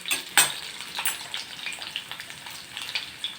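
Vegetables for a traditional potato curry (ambat batata) sauté in a pan, with sharp crackling bursts and scraping stirs over a low, continuous sizzle, close and alone, with no speech.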